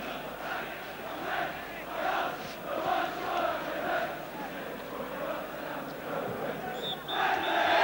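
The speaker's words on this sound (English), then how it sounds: "the Oxford fans are cheering again" Oxford United fans at a League Cup football match against Arsenal cheer and chant in the stadium, a dense crowd roar that swells in waves and rises again toward the end.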